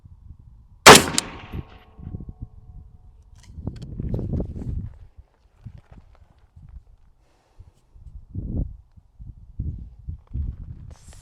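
A single loud, sharp 6.5 Grendel rifle shot from an Alex Pro Firearms Elite LPR, fired outdoors off a rest, followed by quieter thuds and rustling with no talk.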